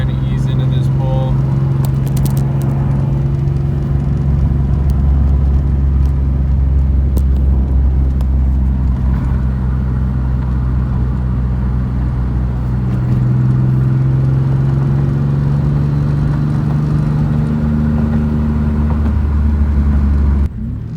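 A turbocharged Nissan 350Z engine hums steadily and builds gradually, a low continuous drone rising in pitch as the car accelerates, with faint voices over it.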